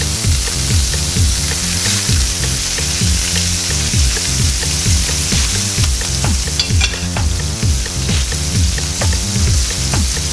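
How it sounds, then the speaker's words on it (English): New York strip steak sizzles loudly in hot oil in a pan, a dense, continuous crackling hiss heard up close with no talking. "Oh yeah, you want to hear that sizzle."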